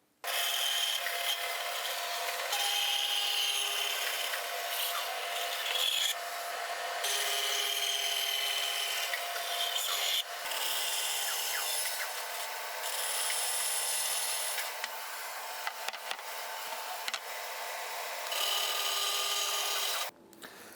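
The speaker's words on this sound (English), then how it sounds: "that's where we need to cut to on the bandsaw" A bandsaw cuts a rebate into a wooden board, giving a long, steady, close rasping whine that pauses briefly a few times before stopping.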